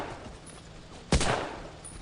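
A single sharp gunshot from the World War II shooter Battlefield 1942, on the Iwo Jima landing beach, cracking loudly over faint background ambience.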